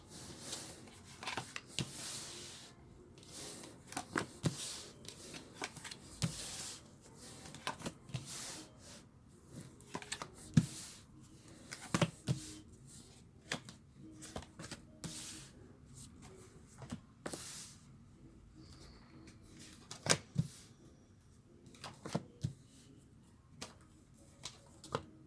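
Tarot cards being shuffled and drawn during a month-by-month reading, with soft repeated riffling, rubbing and card slaps at close range and no talk.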